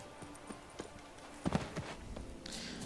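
Horse hooves clip-clop in The Witcher 3 game, a few irregular steps mixed with other game sounds and faint background noise.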